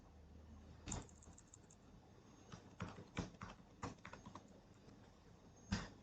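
A password being typed on a computer keyboard, with soft clusters of key taps scattered irregularly over a quiet background and a single louder press near the end.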